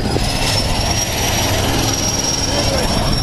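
Steady, loud drone of a skydiving airplane's engine fills the cabin throughout, with a constant whine above a rumbling roar; a voice speaks briefly under the noise.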